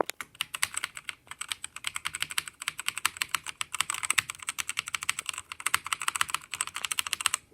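An Alienware AW568 keyboard with brown switches is typed on at a brisk, uneven pace, a close run of crisp clacking keystrokes with no talk.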